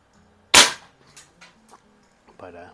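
A restored 1950s Crosman 167 CO2 bolt-action .177 target rifle fires a single loud, close crack, followed by a few faint clicks and a brief bit of voice.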